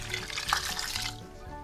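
Lukewarm water pours into a pot of boiled mustard greens for Punjabi sarson ka saag, a short, soft splashing trickle close by.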